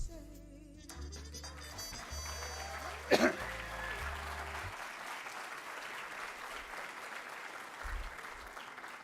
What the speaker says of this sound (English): Don't clap too hard